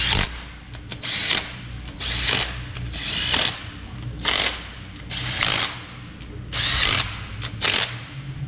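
A ratchet tightens engine bolts to 18 foot-pounds on a 1969 Chevelle engine build with a Holley mid-mount installation. Close, repeated bursts of quick clicking strokes come in a steady rhythm, with no talk.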